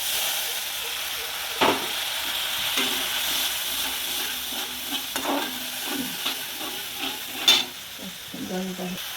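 Spices being stirred in a pan for a Bengali fish curry with papaya and potato: cumin, turmeric and coriander powder sizzle steadily, with scraping spoon strokes and a few sharper knocks against the pan.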